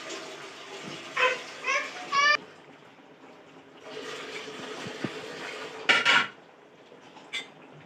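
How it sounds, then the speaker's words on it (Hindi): Kofte go into a pot of curry with softened potatoes, with scattered clinks and clatters of a spoon against the metal pot and a few louder knocks, no voices. "देखिए हमने पूरे कोफ्ते इसमें डाल दिए"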